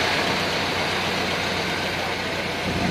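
A revived engine idles steadily and loudly, a continuous low rumble with a faint uneven miss, running alone without voices for the full stretch.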